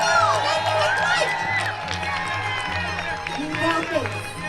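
A lively outdoor crowd whooping and cheering at a pie eating contest during a berry festival at an amusement park, with excited shouts and voices over a steady low hum.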